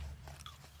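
A single close crunchy bite into sweet cinema popcorn, brief and faint against soft background noise.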